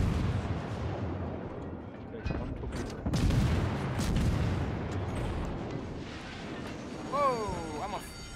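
Destroyer guns firing in the World of Warships naval battle game, heavy booming shots and rumbling blasts rolling through the scene, with a person talking and exclaiming over the gunfire.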